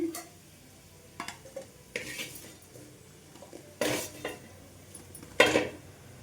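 Fried potato pieces scraped from a pan onto a plate with a spatula, scattered clinks and scrapes of metal on cookware over a low lingering sizzle, close and without speech.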